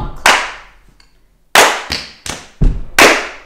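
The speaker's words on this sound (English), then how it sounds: "So we're going to clap," A group performs clapping and stomping body percussion before singing, with about six sharp, loud, close hits in an uneven rhythm separated by brief quiet gaps.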